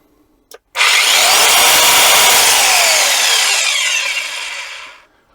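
A Metabo KHE 3560 Q rotary hammer drill whirs loudly at close range for about four seconds after a brief click, then its kickback safety cuts it off and it winds down and stops.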